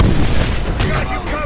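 Enemy machine gun and artillery fire in a World War II battle in Call of Duty: World at War rattle and boom loudly at close range, with dense bursts and a sharp crack, under shouting soldiers.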